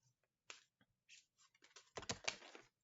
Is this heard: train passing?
no